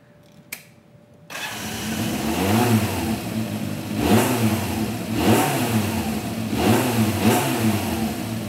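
After a short quiet click, a motorcycle engine starts up and revs repeatedly, climbing and falling in pitch in a steady rhythmic pattern of loud, close throttle blips.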